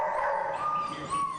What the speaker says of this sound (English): The kennels where the four-legged Usain Bolts wait patiently for their chance at glory